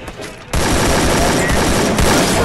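Gunfire in the mobile shooter Garena Free Fire: a dense, loud burst of rapid shots begins suddenly and continues as one unbroken roar, close and harsh.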